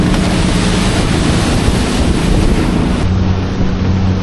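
Boat ride over open sea waves on the way back to El Nido, a loud continuous rush of wind and water with a steady low engine hum underneath, close to the microphone.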